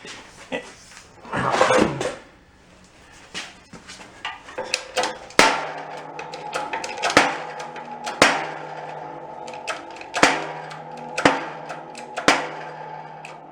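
Metal strikes on a stuck cylinder jug of a junked marine diesel generator set: sharp, ringing hammer blows repeated at irregular intervals of about a second, close and loud, with scraping and clatter between hits and no talk.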